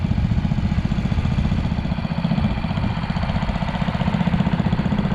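A Farmall Super C tractor idling at an outdoor parade of power, a steady low rhythmic chugging with even firing pulses, loud and close throughout.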